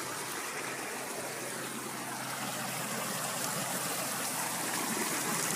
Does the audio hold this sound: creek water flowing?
yes